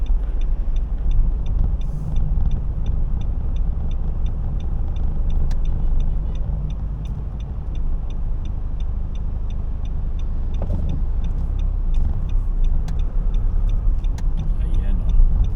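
Car cruising on a highway in Pangasinan, a steady low road and engine rumble throughout, with people talking over it.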